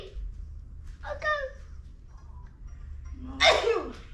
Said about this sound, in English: That box made me sneeze.